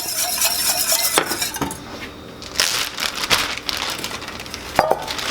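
Bourbon-barrel-aged maple syrup marinade with fine ginger pieces is mixed briskly in a bowl, a close, loud run of scraping, sloshing strokes with sharp utensil clinks against the sides.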